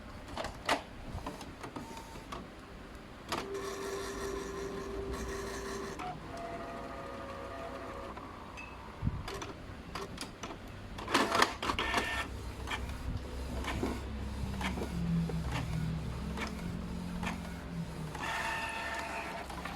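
A Canon inkjet printer with a clogged print head runs a test print, whirring and clunking through feed and carriage movements, with motor whines, clicks and rattles rising and falling over about twenty seconds, close up with no talk.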